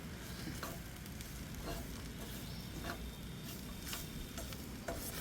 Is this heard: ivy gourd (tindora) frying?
yes